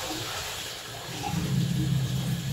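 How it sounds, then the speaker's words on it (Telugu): Water is poured into a vessel while preparing milk dumplings (paala thaalikalu), a continuous soft rushing flow that grows a bit fuller and deeper toward the end, with no talking. "ఇట్లా వాటర్ పోసుకోవాలి."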